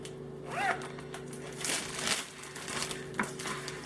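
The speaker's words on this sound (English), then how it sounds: "Now we're just going to throw it in this Ziploc bag." Seasoned sirloin tip roast being put into a Ziploc plastic bag, close crinkling and rustling of plastic in several short bursts with a faint steady hum underneath.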